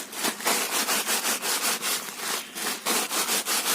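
Koorka (Chinese potatoes) in a bag are beaten to loosen their skins, making rapid, rhythmic rustling thumps close by in a steady series with no voices.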